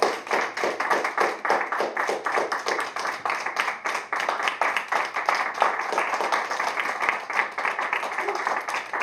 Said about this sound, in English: One more round of applause for this fellow.